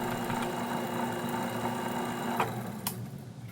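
A Craftsman metal lathe runs steadily after being switched on in a shop, giving a continuous mechanical hum with a sewing-machine-like whir and a couple of brief clicks near the end.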